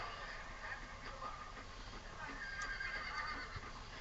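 A horse whinnies in the video game Red Dead Redemption 2 over a busy background with hoof clops, the sounds moderately loud and slightly muffled.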